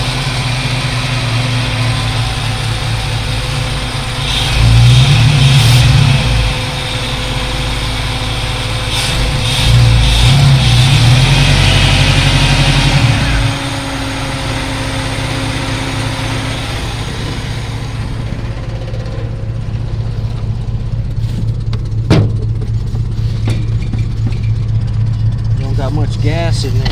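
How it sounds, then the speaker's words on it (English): An old truck engine idles close by and rises into two short revs before settling back to a steady idle, with a person talking over the running engine. "old truck fired up, it's alive"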